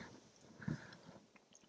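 Soft, close chewing of cauliflower rice with a brief crunchy bite, quiet mouth sounds and no talking.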